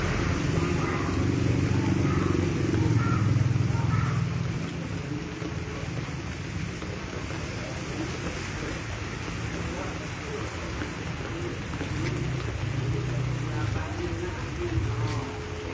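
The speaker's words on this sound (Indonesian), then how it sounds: "Kondisinya hujan saat ini pemirsa ya, di Tambun Selatan hujan malam-malam" Steady rain falls at night in Tambun Selatan, a continuous broadband hiss of drops on surfaces throughout, with passing traffic such as cars or motorcycles faintly mixed in and a voice talking over it.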